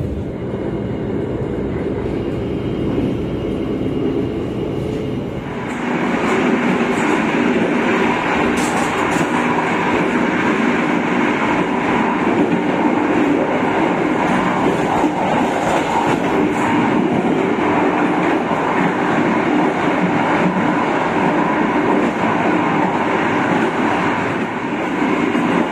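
An express train runs steadily near Cikampek station, a loud continuous rumble heard from inside a carriage that swells and thickens as the Argo Parahyangan passes on the adjacent track.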